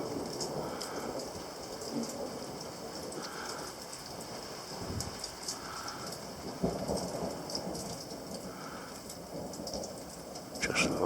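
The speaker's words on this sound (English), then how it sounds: "Thunder." Steady rain hisses through a storm with low rolling rumbles of thunder in the background, a continuous wash of sound with no talking.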